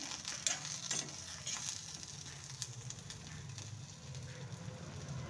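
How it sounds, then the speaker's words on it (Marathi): Tomatoes with ginger softening in a pan for chutney, a quiet, steady sizzle with crackling pops and occasional stirring scrapes, fairly faint overall. "एक किंवा दोन टमाटर छान मस्त मऊ होऊ द्यायचं परतून घ्यायचं"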